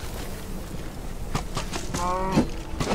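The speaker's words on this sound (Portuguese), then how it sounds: "Olha, o cara atirou na vaca aqui." A cow in the video game Minecraft Dungeons moos once, a short low drawn-out call rising clearly above faint game ambience.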